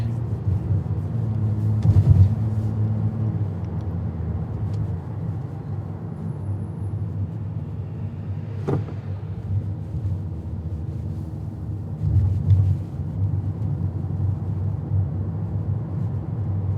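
A car drives through the Greeneville neighborhood streets of Norwich, Connecticut, its steady low engine and road rumble continuous throughout, with a few brief swells of passing noise.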